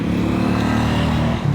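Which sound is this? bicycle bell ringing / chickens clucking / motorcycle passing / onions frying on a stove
motorcycle passing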